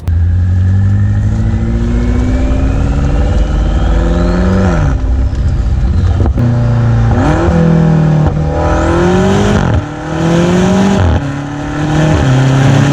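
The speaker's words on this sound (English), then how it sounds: "the M Sport exhaust produces for the ears just the right amount of info" A 2018 BMW M5 First Edition with M Sport exhaust revs and accelerates loudly through rising gear changes, the exhaust roaring steadily and close for the whole stretch.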